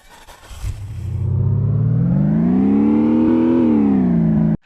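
A video game car engine in an Unreal Engine 5 vehicle system revs up steadily, its pitch climbing and holding at a loud, sustained whine before cutting off abruptly.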